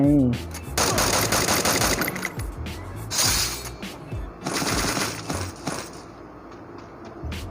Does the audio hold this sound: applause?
no